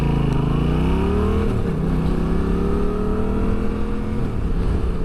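Motorcycle ridden on a road in near-freezing weather, engine droning loud and steady with shifting pitch as it speeds up and eases off, wind noise throughout.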